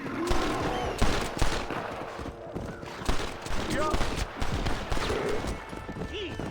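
Gunfire aimed at a bear in the video game Red Dead Redemption, with repeated shots crackling through a busy scene while people talk over the top.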